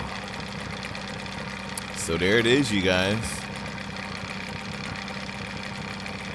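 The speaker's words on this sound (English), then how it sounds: "Love that engine." A boat engine runs at a steady low idle in Friday the 13th: The Game, a constant rumbling drone with a voice speaking over it briefly.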